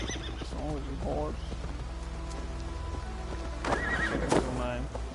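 Horse from Assassin's Creed Valhalla neighing twice over steady clip-clopping hooves, with rain pattering in the background and game dialogue faintly underneath.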